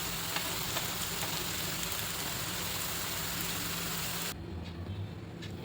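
Slices of suran, elephant foot yam, sizzle in hot oil with a steady, even crackle that cuts off abruptly near the end, leaving only a faint low hum.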